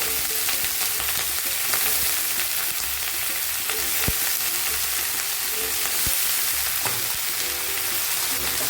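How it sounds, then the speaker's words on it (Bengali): Potato and eggplant pieces fry with browned onion in a pan, giving a steady, close sizzle with occasional sharp crackles and clicks of stirring throughout. "এখন আমি দিয়ে দেবো কেটে রাখা আলু আর বেগুনটা এটাও পেঁয়াজের সঙ্গে ভালো করে কষিয়ে নেব"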